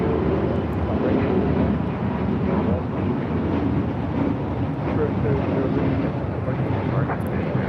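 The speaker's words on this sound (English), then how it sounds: "The Asiana Airlines A380 now rolling on 24 left." An Asiana Airlines Airbus A380 rolls for takeoff on runway 24 left at LAX, giving a steady, broad jet roar that holds at an even level throughout, with some wind buffeting at the microphone.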